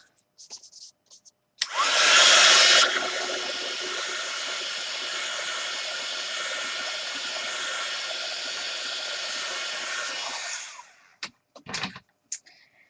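A heat tool blows a steady, loud whooshing roar while drying paint on an art journal page, starting abruptly, running for about nine seconds and cutting off, with brief handling clatter before and after.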